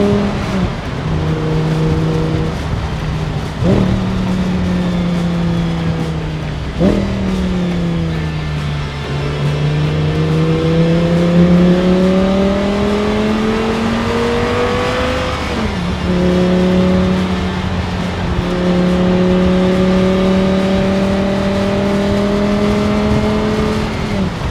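An Audi R8 V10 Spyder 525 convertible with its V10 engine pulls hard through the gears, the loud, close exhaust note rising with each acceleration and dropping at several sharp upshifts.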